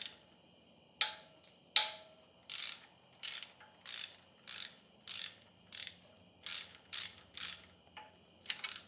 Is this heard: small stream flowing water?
no